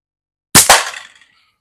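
A slingshot shot hits the target with a loud, sharp crack, then a second impact follows a split second later, and both fade quickly into silence.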